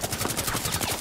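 A gun firing full-auto in the video game Rainbow Six Siege, a dense, loud, unbroken stream of rapid shots heard close up.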